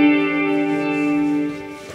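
An electric guitar holds a sustained chord that rings out loud and close, thickened by a double-tracker chorus, warmed by tape saturation and trailing into reverb before it fades.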